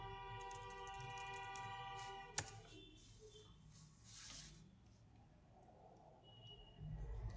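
Keys clatter on a keyboard as a short word is typed, a few quiet taps over a steady electronic hum, with one sharp click standing out partway through.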